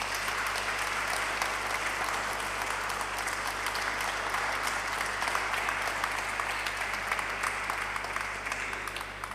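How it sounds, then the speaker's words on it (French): An audience at a religious gathering applauds steadily and continuously, a dense wash of clapping that holds for the whole stretch before easing slightly at the end. "On peut applaudir Marie."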